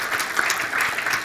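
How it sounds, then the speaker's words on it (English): Audience at a panel discussion marking seventy years since Brown v. Board breaks into a short burst of dense, steady clapping, close and lively, with little talk. "Go ahead and clap."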